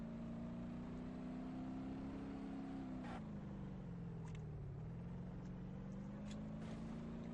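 Pickup truck engine in the early-alpha soft-body driving simulator BeamNG Drive, a steady mid-pitched drone that sags and recovers in pitch as the truck slowly creeps along, loud and continuous with no talking.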